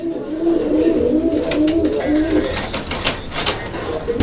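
A male fancy pigeon coos repeatedly in close, loud, rolling phrases, with a person talking over the calls and some rustling in the background.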